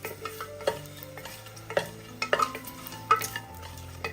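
Cardamom, cloves, bay leaf and dried chillies fry in a pan over low flame, a soft sizzle broken by repeated clicks and taps of a stirring spoon against the pan.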